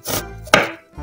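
An onion is chopped for fattoush salad, giving two sharp knife strikes on a cutting board about a third of a second apart, close and clear, with a faint start of a third at the very end.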